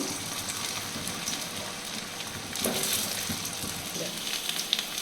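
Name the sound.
potatoes frying in oil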